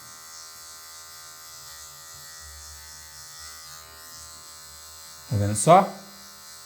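Electric hair clipper buzzing steadily in the background during a mid fade haircut, used at the low number 1 setting with just the blade tip, with a brief louder burst near the end as a voice speaks.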